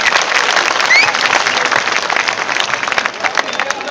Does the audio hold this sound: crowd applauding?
yes